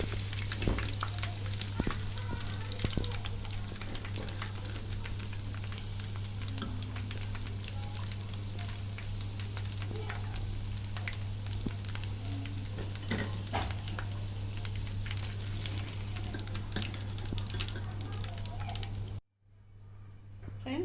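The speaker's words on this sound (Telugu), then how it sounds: "ఇలాగే చికెన్ మొత్తం కూడా ఫ్రై చేసుకుందాం" Chicken pieces fry in hot oil, a steady close sizzle with occasional stirring clinks over a constant low hum, running unbroken until it cuts off near the end.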